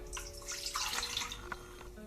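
Water pours into a half-litre pint glass in a home kitchen, a steady splashing trickle close by that runs for a couple of seconds with no talk over it.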